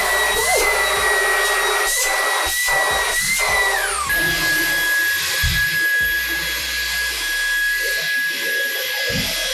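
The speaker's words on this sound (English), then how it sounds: "you have an idea how strong this vacuum suctioning is" A Dreamtech P10 Pro cordless stick vacuum cleaner runs with a loud, steady high-pitched whir whose pitch drops partway through, with scattered clunks and brief talking over the hum.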